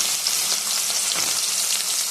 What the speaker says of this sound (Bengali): তেল গরম হয়ে গেছে, দিয়ে দেবো কাঁকড়া।